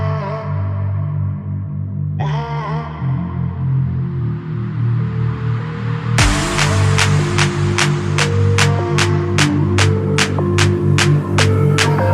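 A loud BMW F82 M4 exhaust with a non-resonated midpipe drones with a deep, steady rumble, then jumps to a harsher, louder roar with rapid pulsing revs. No one speaks.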